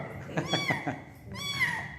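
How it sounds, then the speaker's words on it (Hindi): A kitten mews twice in quick, high-pitched calls, close by, in a house, with some faint background noise. "ये आप लोग को बिल्ली का बच्चा दिखाई दे रहा होगा"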